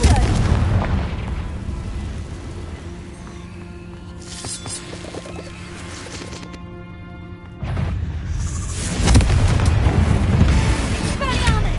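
Booming Confringo spell explosion in Hogwarts Legacy, a heavy blast followed by rumbling combat noise and a second loud burst near the end, close and dense.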